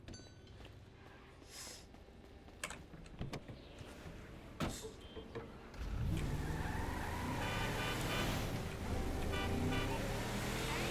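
A car horn honks in Grand Theft Auto V on PC, sounding amid loud in-game road traffic and vehicle engine noise, with the horn blasts in the latter half rising over the roaring car.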